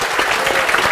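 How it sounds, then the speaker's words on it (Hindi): A burst of loud applause from students in a lecture, many hands clapping together in a dense, steady patter. "एक बार जोरदार तालियां आज के दिन के लिए"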